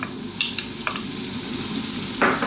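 Onion frying in olive oil in a pan, a steady close sizzle with a few sharp scrapes of a utensil against the pan, the last one louder, and no talking.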